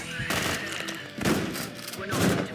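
Repeated bursts of gunfire in the video game Quasimorph, three loud volleys with brief gaps, dense and close, ringing out alone without any talking.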